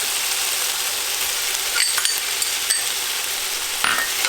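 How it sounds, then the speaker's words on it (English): Ginger and garlic sizzle in a frying pan of chicken for Kung Pao chicken, a steady close hiss with a few sharp clinks and scrapes of a utensil against the pan. "Now we're going to add our ginger and our garlic."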